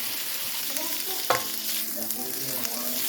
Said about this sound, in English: we are going to put our rice in the wok and fry it up